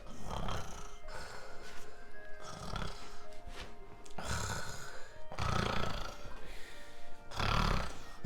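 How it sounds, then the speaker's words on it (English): A man snores repeatedly, deliberately, indoors: six or seven rasping, rumbling bursts in a slow irregular rhythm, close and fairly loud, with short quiet gaps between. "He doesn't like me snoring as well."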